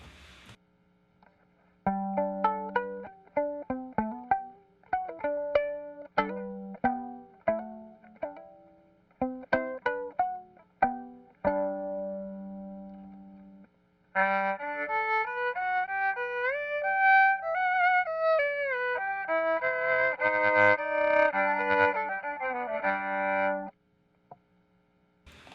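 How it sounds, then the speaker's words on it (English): Clean electric violin through its pickup, first plucked pizzicato in a quick run of short notes, then bowed arco in smooth sustained lines with a steady hum underneath. "hear the sound of my violin pickup, pizzicato and arco"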